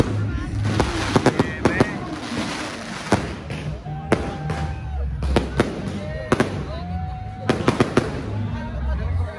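Fireworks pop and crack repeatedly, with sharp bursts and whistling streaks rising over a noisy outdoor crowd and chatter.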